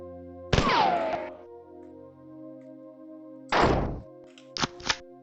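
Hits land on an exploding tick creature in the 1994 game Marathon, heard as a sharp thunk with a falling tone, then a second heavy impact and two quick thuds over a steady hum.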